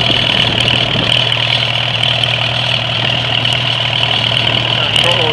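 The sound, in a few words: 1945 Farmall A tractor engine running after cold start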